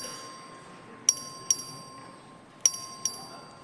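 Voting bell in the Texas House chamber, rung by the clerk: four short, bright metallic dings in two pairs, moderately near over a quiet room hum.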